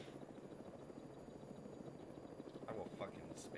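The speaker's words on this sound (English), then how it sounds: "I was rotating it to take off. It's a helicopter. It goes up." A helicopter lifts off in the video game Arma 3, its rotor producing a steady low buzzing drone throughout, fairly faint, with brief higher noises near the end.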